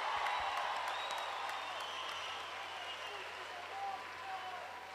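An audience applauds at a live concert, the clapping sustained and fairly even and fading slightly, with a voice speaking over it.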